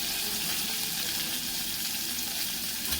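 Gunda berries sizzle loudly in a hot oiled pan with a pinch of salt and turmeric, a dense, continuous close-up frying hiss with no break.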